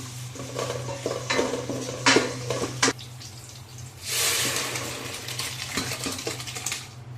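Oil, chopped onion and garlic tempering poured into bottle gourd lentil dal, with stirring and clinking of a metal spoon against the pot followed by a burst of hissing sizzle.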